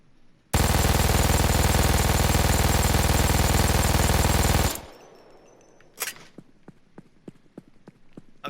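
An MG-42 general purpose machine gun in Payday 2 fires one sustained burst of about four seconds, a dense rapid roar, followed by sharp distant impact cracks and scattered smaller reports.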